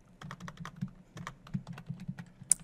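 Fingers type on a computer keyboard in a steady run of soft, closely spaced key clicks with small pauses, near and quiet, with no one talking.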